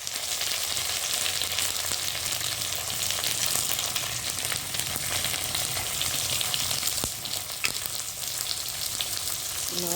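A paste of green chili, ginger and cumin with turmeric and salt fries hard in hot oil, a dense, continuous sizzle held at steady loudness, with faint stirring scrapes.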